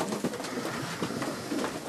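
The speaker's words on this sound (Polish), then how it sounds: "Także będziemy mogli obserwować te gołębie na tamtym gołębniku." Janssen racing pigeons cooing in a loft, soft low murmuring coos close by over a dense, hissy background, brief and continuous with no talk.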